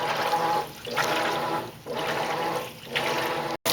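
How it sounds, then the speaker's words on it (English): A Maytag Centennial MVWC415 top-load washing machine fills with cold rinse water, a steady rushing pour that surges and eases in waves, close and loud with no voices. "So now we're adding clean water, which is cold water."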